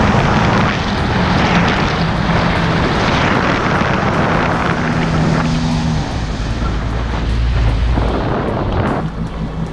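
Jet ski engine running at about 20 mph on open water, a steady loud drone with a low hum and broadband rush from wind and water, continuous throughout without pause.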